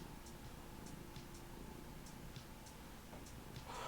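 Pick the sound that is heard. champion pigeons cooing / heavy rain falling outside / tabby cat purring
tabby cat purring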